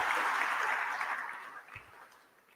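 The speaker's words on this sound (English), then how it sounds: "Let's clap hands for the performers as well" Mourners at a funeral service applaud the performers, a broad wash of clapping that starts fairly full and steadily thins and fades away toward the end.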